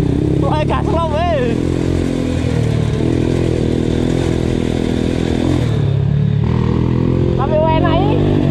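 A Honda WIN 125cc motorcycle runs with the throttle held open, giving a loud, continuous engine drone while riding, with brief bursts of a voice over it.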